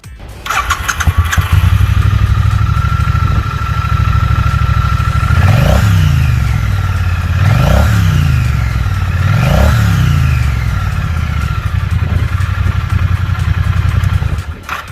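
A 2018 Triumph Bonneville T100 motorcycle engine starts and settles into a rumbling idle, then revs sharply three times in even bursts before dropping back to idle.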